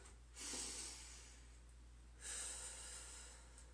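Two slow, deep breaths taken during a yoga flow in warrior 1 pose, each a soft airy rush lasting about a second and a half, close and quiet against a low steady hum, with no talking.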